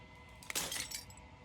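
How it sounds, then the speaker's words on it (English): Glass shatters in the video game Slay the Princess, a brief bright burst of tinkling shards that rings out and fades over a low steady background hum. "As the final fragment of glass shatters"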